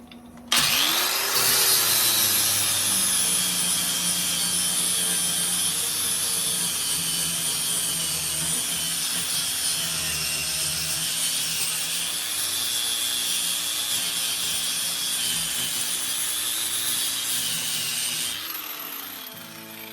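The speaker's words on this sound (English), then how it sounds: "grind it, that should be it." An angle grinder working rust repair on a 1972 VW Super Beetle body, a loud continuous high-pitched whine and scraping grind that holds steady for about eighteen seconds before cutting off.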